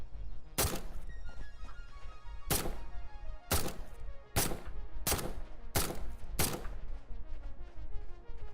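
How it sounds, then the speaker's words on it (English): Seven loud, sharp gunshots crack out one at a time at uneven intervals in the factory-building game Satisfactory, each a close, punchy blast over a low droning background. "I'm gonna shoot this last guy though."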